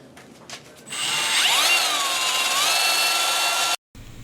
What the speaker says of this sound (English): So I started with the wire wheel